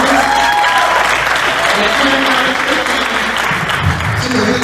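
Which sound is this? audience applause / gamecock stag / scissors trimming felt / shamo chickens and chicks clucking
audience applause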